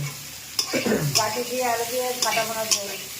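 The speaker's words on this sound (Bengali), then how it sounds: "গাটি আলু কষাচ্ছো তাই তো?" Taro and potato pieces are stirred and sautéed in a hot pan for a fish curry, giving a continuous sizzle broken by several sharp scraping stirs of a utensil, while a voice speaks faintly underneath.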